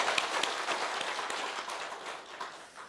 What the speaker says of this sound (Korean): 우리 화답 박수 한번 쳐주시기 바랍니다